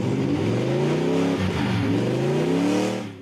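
A 1934 Black Betty car engine runs rich and revs steadily, its deep harmonic drone rising and falling through several throttle swells, loud and close with no talk.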